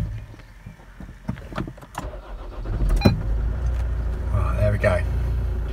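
A car engine cranks with short bursts and quick clicks, then catches near the three-second mark and settles into a rough, steady running drone that fills the rest, with little or no speech.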